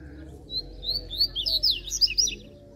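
A coleiro songbird sings a run of quick, bright chirping phrases one after another, fairly close and clear above a low steady background hum.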